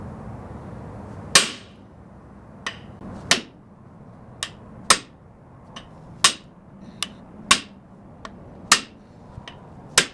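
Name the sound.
hammering a cone during a 1948 Chevy inline-6 engine rebuild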